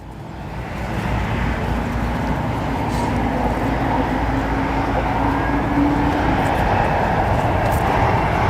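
Boeing 747 with CF6 engines at O'Hare International Airport, a loud sustained jet roar that swells in over the first second and holds steady, heard from a distance with no talk.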